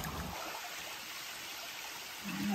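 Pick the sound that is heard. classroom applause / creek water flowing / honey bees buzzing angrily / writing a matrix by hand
creek water flowing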